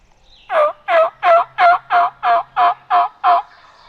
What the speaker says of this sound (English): There's some more turkeys up behind them.